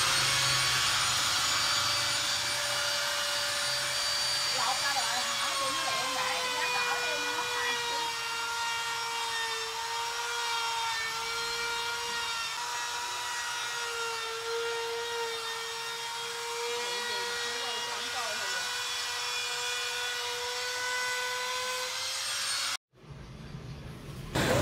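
A router mills an aluminium composite panel for corner folding, giving a steady high-pitched whine with strong harmonics that runs for over twenty seconds, then cuts off abruptly near the end.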